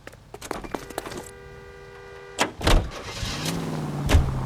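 A car in the L.A. Noire video game starts up and pulls away, engine rising and rumbling with door and mechanical clunks, fairly loud and close.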